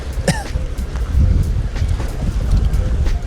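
Steady gusting wind buffets the microphone while bass fishing from a drifting boat, a low rumbling roar with brief lapping and knocking sounds, close and fairly loud throughout.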